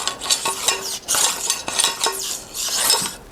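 A plastic brush scrubbing oiled MK-12 rifle parts during cleaning: brisk, repeated scratchy strokes in short bursts with light clinks of metal between them, close and fairly loud, with no talking.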